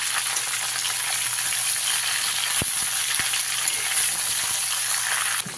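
Raw mango pieces fry in hot oil, giving a loud, constant sizzle close up, with a couple of sharp pops partway through.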